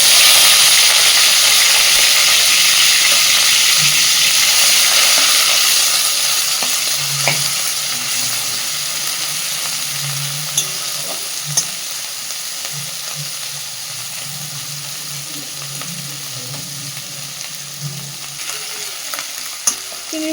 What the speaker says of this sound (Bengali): এবার দেওয়া হচ্ছে লবণ আর হলুদ মাখিয়ে রাখা ছোট ছোট চিংড়ি মাছ।